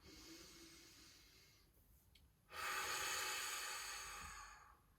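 Deep breaths during a yoga relaxation session, with a soft airy inhale and then a louder, longer rushing exhale lasting a couple of seconds, close and alone with no talk.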